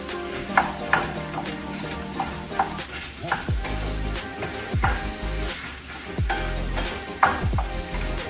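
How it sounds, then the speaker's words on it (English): Ground beef being stirred in a hot pan for empanada filling, a steady sizzle and frying hiss with repeated scraping stir strokes roughly every second, close and alone. "we want to keep stirring it until the meat is fully cooked"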